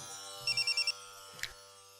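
A phone rings in a Pakistani TV drama as a mother calls, a short burst of about five quick electronic trill pulses followed by a brief softer tone, clear and alone with no talk.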